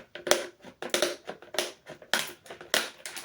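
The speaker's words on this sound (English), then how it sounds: "I'm going to try to take my scissors and cut around the line" Scissors snipping around a marked line on a thin plastic bowl, a close series of sharp crunchy cuts in a steady rhythm, each cut crackling loudly with short pauses between.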